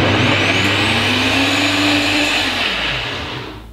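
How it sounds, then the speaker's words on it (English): A blender running continuously as it blends fruit and protein powder, a loud steady whirring drone with a shifting motor pitch that slowly eases off toward the end. "put it in the blender"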